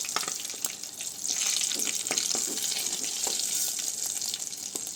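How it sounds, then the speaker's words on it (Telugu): Eggs fry in a pan in a village-style home kitchen, cooked until browned for a drumstick and prawn curry. A steady, close sizzle and hiss runs throughout with small crackles and pops, and no one speaks. "గుడ్లు రంగులోకి వచ్చేలాగా వేపుకోవాలండి"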